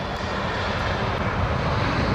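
A Tarom airliner passes at an airport, its jet engines making a steady, loud roar that holds without a break, with no voices.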